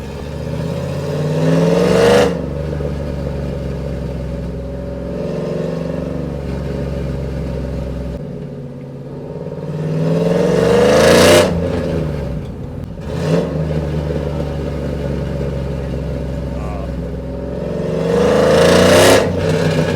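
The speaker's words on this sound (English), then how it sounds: "let's go ahead and see if we can get some pops and bangs for you" A cammed Chevy Silverado truck with a 5.3L V8 and longtube headers revs repeatedly, three loud bursts rising and falling over a steady rumbling idle, with crackling pops and bangs on the decel, close and unaccompanied by talk.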